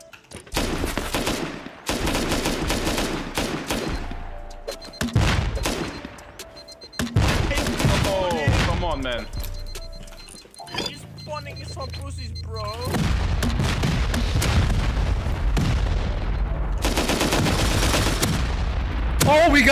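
C4 charges detonating during a base raid in the Rust survival game, a long barrage of heavy booms and rapid gunfire in dense bursts, with short lulls and an alarm-like tone, loud and close.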